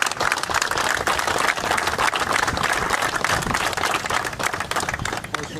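Sustained, dense applause from an outdoor audience gathered in a town square in Miraflores at a family reunion, steady and loud throughout with a busy, crowded texture.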